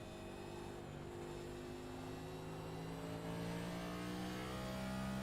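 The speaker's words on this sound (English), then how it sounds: "Listen to Sam's throttle on exit" A loose race car at a Memorial Weekend race meeting comes off a corner under throttle, its engine a steady, fairly faint drone that climbs gradually in pitch as it accelerates, with no talk over it.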